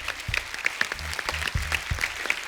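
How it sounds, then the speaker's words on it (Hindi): A studio audience applauds the team of the film Thappad on a comedy talk show, brisk close clapping with distinct individual hand claps over a low rumble. "सो एक बार जोरदार तालियां हो जाएं फिल्म थप्पड़ की पूरी टीम के लिए"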